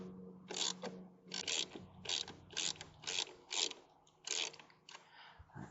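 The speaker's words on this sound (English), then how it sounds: "That is a 10 millimeter. And we're just going to loosen that up." A ratchet wrench loosens the 10 mm negative battery cable nut on a Mercedes C280, a rapid clicking pawl heard close up in eight or so short, evenly spaced bursts.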